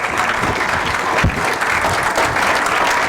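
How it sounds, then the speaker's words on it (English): Audience applause after a keynote talk at a cannabis expo, a dense burst of many hands clapping, loud and continuous with a few heavier claps near the front. "Big round of applause."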